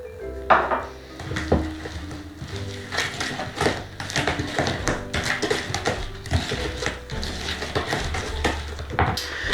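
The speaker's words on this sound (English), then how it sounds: "Take a rolling pin and just crush them" Biscuits are crushed in a sandwich bag with a rolling pin: a busy run of close, repeated thumps, taps and crunching knocks lasting several seconds, with a brief murmur of voice mixed in.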